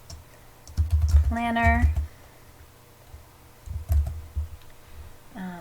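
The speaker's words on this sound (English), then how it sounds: "I'm going to type" Keys clatter on a computer keyboard in two quick bursts of typing, close and fairly quiet, with a brief spoken word between them.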